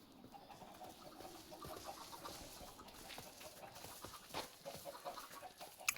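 Chickens in a video game chicken coop give soft, scattered clucks over a constant background murmur, fairly faint and continuous throughout.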